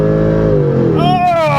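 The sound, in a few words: Mercedes C55 AMG engine sound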